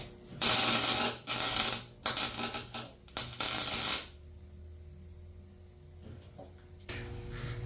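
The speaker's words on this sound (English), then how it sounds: "Back to welding." Bursts of arc welding on a car body in a home garage, several loud crackling runs of about a second each with short gaps, then quiet hum after the welder stops.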